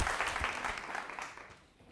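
Studio audience applauding on a French-language television game show, a dense, even wash of clapping that gradually fades toward the end.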